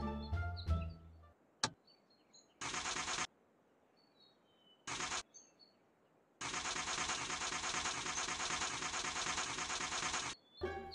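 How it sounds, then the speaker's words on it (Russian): A partly rebuilt pickup truck engine cranks over in several bursts, short attempts followed by a long sustained cranking stretch, loud and close with pauses between. "Итак, первый тест запуска двигателя."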